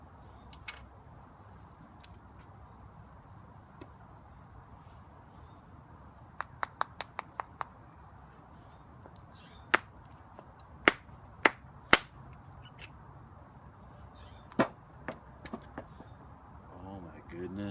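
Obsidian being knapped into arrowheads, with sharp, glassy clicks and snaps scattered irregularly over quiet background, including a quick run of several strikes, while a person talks softly.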